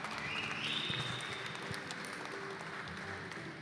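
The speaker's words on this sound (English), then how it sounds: "let's give them a round of applause" Audience applause at a museum glassblowing studio after a finished piece comes off the pipe, a dense steady patter of many hands holding at an even level throughout.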